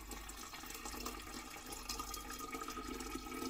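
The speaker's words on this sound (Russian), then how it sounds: "Наливаем воды." Water pours steadily into a jar of kombucha at close range, a continuous splashing, gurgling stream with no voices.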